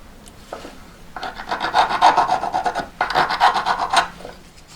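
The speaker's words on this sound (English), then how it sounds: "that was only a little bit of filing around the outside just to get rid of the worst of it" A hand file rasps around the outside of a small metal 2mm stone collet to knock off burrs, heard as two close, steady bursts of repeated filing strokes with a short pause between them.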